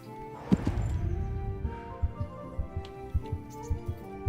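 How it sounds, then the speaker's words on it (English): Horse hooves clop as a rider travels in the medieval game Kingdom Come: Deliverance, a loose rhythmic series of soft thuds at moderate distance over a faint ambient bed, with no talk. "We're gonna go there the old-fashioned way. By horse riding."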